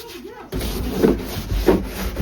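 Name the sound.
rubbing, scrubbing a surface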